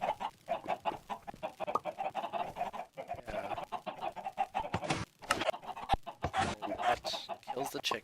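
Minecraft chickens in the video game, repeated close clucking and squawking in an irregular rhythm, with some clicking game sounds mixed in.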